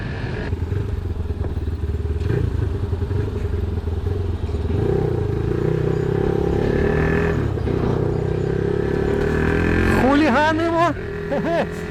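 A Geon Scrambler 300 motorcycle engine revs up and climbs in pitch as it accelerates, loud and close, with gear changes and a final sharp rising whine.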